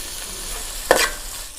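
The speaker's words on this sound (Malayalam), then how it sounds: "നന്നായിട്ട് ഇളക്കുക." Beef stirred in a hot pan, likely with curry leaves and coriander, for a Kerala-style beef kondattam; a steady sizzle runs throughout, with one brief louder scrape of stirring near the middle, close and alone.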